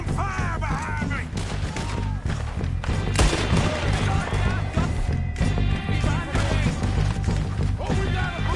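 Gunfire in Red Dead Redemption 2 during a shootout with O'Driscoll gang members, loud bursts and crashes mixed with game music and shouting voices throughout.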